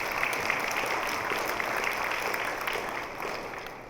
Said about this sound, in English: So give yourselves a round of applause for showing up.